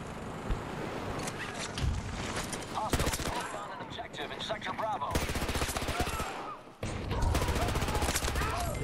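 Rapid automatic gunfire and bursts of shooting in the first-person shooter Battlefield 2042, dense and continuous with brief pauses, mixed with other battle noise and a voice talking over it.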